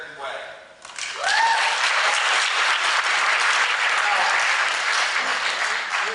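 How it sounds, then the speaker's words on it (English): A debate audience breaks into loud, sustained applause after a quiet start, the clapping swelling quickly and holding steady as a dense crowd roar with a voice briefly heard beneath it. "You folks who just applauded that point"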